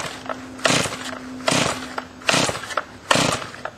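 Four rough pull-cord yanks on a cold Stihl MS170 chainsaw with the choke on full, each a short raspy burst spaced under a second apart, the engine not catching; close and fairly loud.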